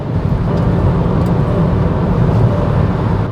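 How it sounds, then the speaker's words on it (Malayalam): A 2024 Hyundai Alcazar SUV accelerating hard on the road, a loud, steady low engine drone with a slightly raspy note under broad road and wind roar, continuous throughout with no talking. "എഞ്ചിൻ്റെ സൗണ്ടും കൊള്ളാം, ഒരു ചെറിയൊരു റാസ്പി നോട്ടൊക്കെ ഉണ്ട്, and it goes really fast"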